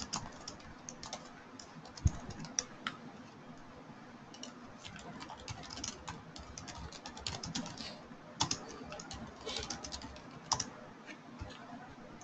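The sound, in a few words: typing code on a computer keyboard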